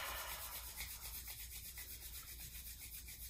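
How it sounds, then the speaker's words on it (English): Hands rubbing together briskly during a meditation, a soft dry swishing friction that repeats steadily and close for a few seconds, with no voice over it. "I want you to rub your hands together"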